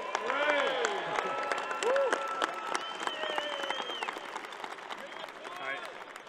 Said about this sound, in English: Ladies and gentlemen, one cheer for the German team.